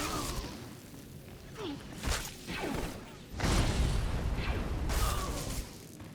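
Explosions in the Star Wars The Old Republic video game: several bursts and booms at spaced intervals with whooshing swishes between them, at moderate level, with faint voices in the background.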